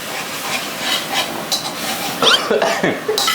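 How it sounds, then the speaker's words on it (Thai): Chili sauce made with sugar, fish sauce, tamarind and oyster sauce sizzles and hisses in a pan as it is stir-fried until sticky, with scraping strokes and a voice speaking over it. "แล้วผัดให้เหนียวเลยลูก"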